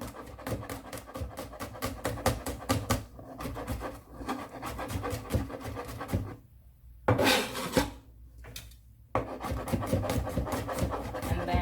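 A knife chops garlic on a board with rapid, steady taps, broken by two short pauses before the chopping resumes. It is fairly quiet and close, and no one speaks.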